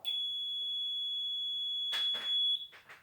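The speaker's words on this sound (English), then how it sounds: "it's a good buzzer, nothing to complain about" A WEN GE YX-961TR analog multimeter's continuity buzzer sounds a steady, piercing high-pitched tone for over two seconds, followed by a few brief rustles and clicks nearby.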